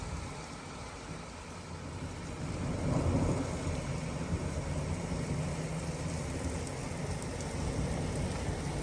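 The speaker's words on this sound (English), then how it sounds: "There's so much rain on the window" Heavy rain pours against a window at Ludham Bridge on the Norfolk Broads, a dense, steady hiss and patter with a low rumble swelling briefly partway through, heard alone without voices.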